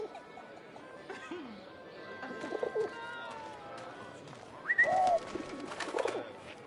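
Pigeons coo in a video game scene of 11-11 Memories Untold, soft repeated bird calls mixed with chirps under low background chatter, with a louder call near the end.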